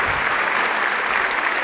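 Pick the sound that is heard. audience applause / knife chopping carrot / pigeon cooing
audience applause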